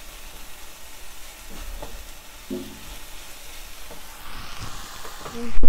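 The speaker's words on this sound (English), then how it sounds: "put that garlic in, get that heated through" Garlic sizzles in a pan with onions and peppers, a soft continuous frying hiss with occasional stirring clatters and thumps, swelling louder at the very end.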